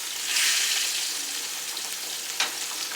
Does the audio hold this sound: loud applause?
no